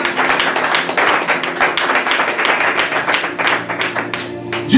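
A church congregation claps and applauds together, a steady dense patter of many hands close by that carries on for several seconds without letting up.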